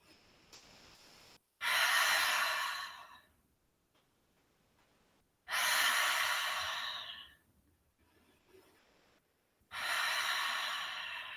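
Three loud breathy exhales during a yoga triangle pose, each a long airy rush lasting over a second, spaced a few seconds apart with quiet between, close and alone without talk.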